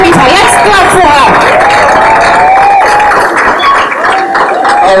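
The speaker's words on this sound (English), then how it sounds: "Let's clap for her." An audience at a women's conference gala bursts into sustained applause with cheers and whoops, a loud, continuous crowd wash while a voice speaks over it.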